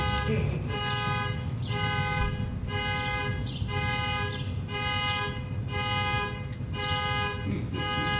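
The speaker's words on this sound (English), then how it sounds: "car alarm thing's going off" A car alarm blares indoors, loud repeated honking tones in regular bursts roughly every second, with people talking faintly underneath.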